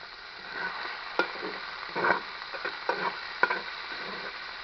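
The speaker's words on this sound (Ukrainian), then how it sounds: "Грудинка смажиться." Smoked pork brisket sizzles and crackles steadily in hot fat in a cauldron, with occasional louder pops and stirring scrapes, heard close and alone.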